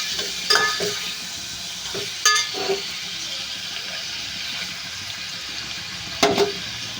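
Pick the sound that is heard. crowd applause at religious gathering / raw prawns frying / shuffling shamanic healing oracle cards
raw prawns frying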